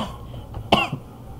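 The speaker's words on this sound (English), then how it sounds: "Sorry for my cough." A single short, throaty cough rings out over a steady background hum, quick and moderately loud, followed by a faint trailing throat sound.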